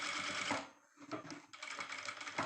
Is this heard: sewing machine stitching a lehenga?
yes